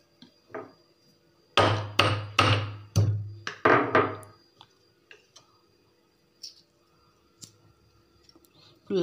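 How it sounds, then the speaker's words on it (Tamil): Nuts are cracked by tapping them with a pounding stone: several sharp knocks come close together, then scattered lighter taps and clicks, with a voice talking faintly at times. "ஒரு இடிக்கல்லையோ இதுலையோ ஒன்றில் போட்டு இதை நல்லா தட்டிட்டீங்க அப்படின்னா பாருங்கள், உடஞ்சிருச்சு."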